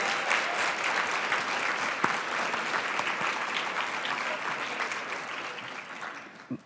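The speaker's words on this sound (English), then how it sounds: "I hope you all will join me in a round of applause." Steady round of audience applause at an academic advising summit, many hands clapping together at moderate loudness and slowly thinning toward the end, with a faint murmur of voices underneath.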